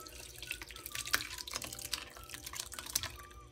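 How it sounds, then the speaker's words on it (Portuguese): Whey streaming from curdled milk through a cloth, as in homemade requeijão, sounds as a steady close trickle of liquid with splashes and drips into a container, without talk. "E agora eu vou escorrer. Vou separar o soro do leite."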